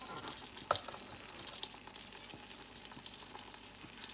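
Basmati rice fries in a big pot with a low continuous sizzle and occasional scraping stirs, one sharp clink early on.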